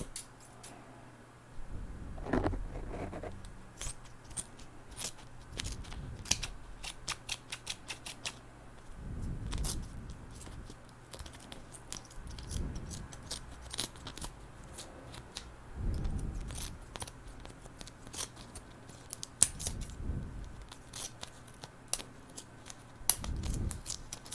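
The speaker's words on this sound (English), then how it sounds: "Let's trim this tape. Trim the tape." Scissors snipping through tape in a quiet room: sharp, crisp cuts in scattered bursts with soft handling rustles between them, close and fairly faint.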